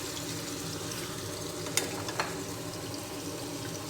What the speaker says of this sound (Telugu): తర్వాత దంచుకున్న అదే తురుముకున్న ఉల్లిపాయ ముద్ద వేస్తున్నాను.